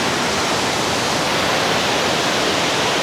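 A waterfall near Chiang Mai, Thailand, a dense steady roar of falling water, loud and close, with no other sounds and no talking.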